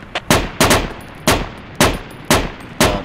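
Machine gun fire rattles in Project Reality's Falklands battle at Goose Green, six loud close bursts in a steady rhythm, each a short cluster of sharp shots, with no talk during the clip.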